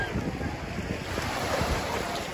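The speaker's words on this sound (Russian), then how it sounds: "Пляж отличный, с видом на девичью крепость." Steady, broadband rush of sea surf on the beach at Kizkalesi in Mersin, with the castle in the water in view, mixed with gusty wind buffeting the microphone and no voices.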